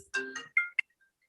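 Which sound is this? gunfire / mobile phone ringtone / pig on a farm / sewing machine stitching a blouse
mobile phone ringtone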